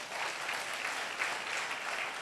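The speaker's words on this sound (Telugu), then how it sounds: "విచారణ గురు గట్టిగా చప్పట్లు కొట్టండి" A congregation claps at the opening of a Catholic church in Thimmaraogudem, a brief, even burst of many hands heard from a distance and at a fairly soft level, with no break.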